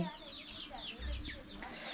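Chickens clucking in a backyard coop on a cold morning in a rural Akha village in northern Laos, with several soft, scattered clucks close by and low rustling underneath.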